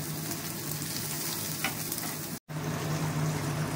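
Capsicum and onion sauté in ghee in a pan, giving a steady, close sizzle throughout. A very brief dropout breaks the sizzle partway through. No talk is heard.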